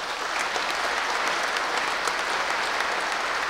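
Sustained applause from a concert audience in a philharmonic hall, honouring generals, a colonel and soldiers at a Christmas concert; dense, steady clapping that fills the whole stretch without pause.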